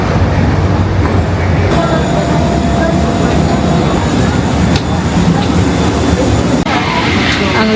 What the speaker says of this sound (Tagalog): Ang laki ng aeroplano pala na to guys.